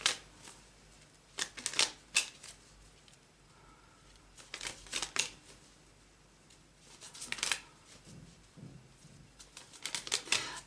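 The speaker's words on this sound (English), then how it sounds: "while I shuffle and try to get you your cards." Tarot deck being shuffled by hand, several bursts of crisp riffling and flicking cards separated by quiet pauses, close and fairly soft.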